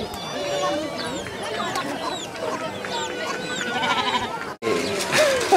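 Animal calls from sheep and other farm animals, with bleats and clucking fowl mixed in, fill a busy farmyard, close and continuous, while people talk over them.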